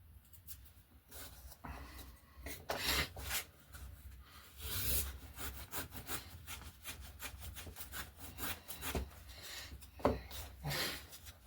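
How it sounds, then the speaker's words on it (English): A hand plane shaving balsa wood down against a plywood block while shaping an RC glider wingtip, giving a run of close, dry scraping strokes at an irregular rhythm, heard alone without talk. "So we'll just keep planing this down."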